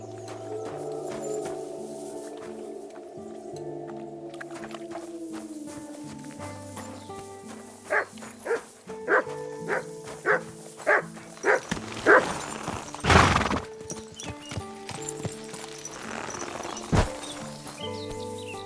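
A dog barks in the medieval game Kingdom Come: Deliverance 2. The barks come as a run of short, moderately loud yaps in the second half, over a game music and ambience bed, with no talk.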